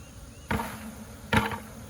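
Two sharp, brief bursts about a second apart, like a hive frame being jerked hard, over a quiet background.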